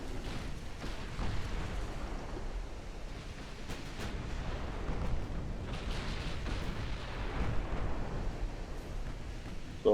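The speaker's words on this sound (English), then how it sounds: "My light cruiser is firing a few shots off from distance" Distant light cruiser gunfire from the naval battle game Ultimate Admiral Dreadnoughts rolls out as faint, muffled booms over a constant low sea-like rumble, with no clear individual shots standing out.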